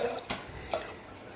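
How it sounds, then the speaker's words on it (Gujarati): Water is poured into dal for cooking dhokli, a short faint splash and trickle lasting about a second in a quiet kitchen. "પાણી થોડું નાખીએ એટલે શું ઢોકળી વ્યવસ્થિત ચડી જાય"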